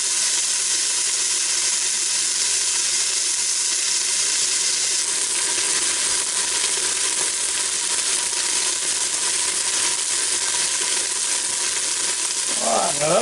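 A ribeye steak sears in an Instant Pot Duo Crisp, giving a loud, steady broadband sizzle that hisses without a break and never fades, with no voices over it.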